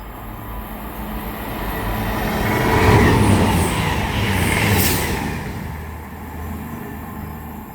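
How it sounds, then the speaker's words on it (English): A Cross Country Voyager diesel train runs through Pangbourne station on the fast line, a broad rushing roar that swells to a peak mid-pass and fades again, heard from the platform. "passing through now is going to be a cross-country Voyager going from Manchester Piccadilly to Bournemouth"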